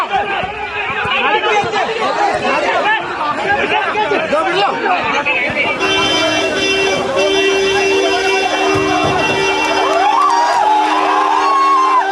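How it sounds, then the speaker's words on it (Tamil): Crowd of onlookers clapping and cheering as a man is driven off in a police vehicle, loud overlapping voices and shouts over a busy street, with a vehicle horn or siren tone joining partway through. "அங்கிருந்த பலரும் கைதட்டி ஆரவாரம் செய்து அனுப்பி வைத்தனர்"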